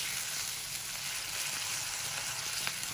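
Meat sizzles and fries in a pan for a Hindi/Urdu chili cheese bites recipe, a steady, close crackling hiss that runs throughout with no speech.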